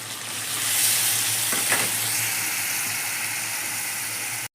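Chicken masala bubbles and sizzles in a pan right after water goes in, a steady close hiss with a brief burst of stirring in the middle, with no voices.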